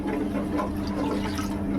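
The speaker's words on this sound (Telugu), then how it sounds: "ఇప్పుడు మనం ఇంకా ఎసరు పోసుకోవాలి" Water being poured onto rice in a pot for home-style pulao, a steady close splashing and gurgling lasting under two seconds with no voice.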